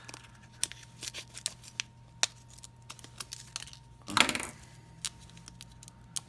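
A Leatherman multi-tool slicing open a cookie package, with quiet scattered clicks and snips and a short, louder burst of cutting and crinkling near the end.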